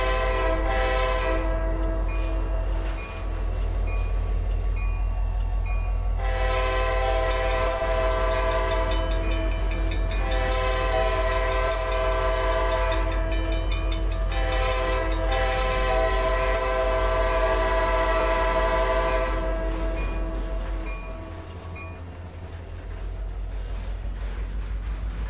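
A CSX train in the Trainz simulator rumbles continuously with a deep engine drone and rail clatter, while its horn sounds in long, loud blasts that start and stop several times over the run.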